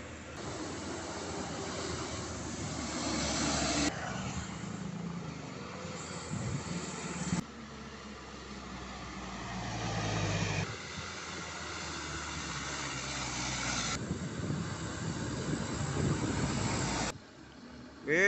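A Hino dump truck labours up a steep incline, its engine a sustained loud rumbling roar with shifting load and rough cuts in the sound.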